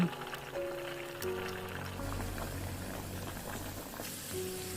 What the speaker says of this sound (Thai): เราก็จะทอดให้พองๆแบบนี้เลยนะคะ